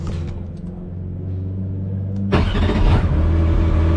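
A race car in pit mode is started with a crank starter and clutch: a low, steady mechanical rumble runs for about two seconds, then the engine abruptly bursts into a loud, full roar that continues close by.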